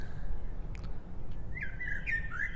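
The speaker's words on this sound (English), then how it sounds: "Listen to those birds." Video-game birds chirping in Deltarune, a series of short bright tweets and trills rising over a steady low in-game background hum in the second half, fairly close and clear.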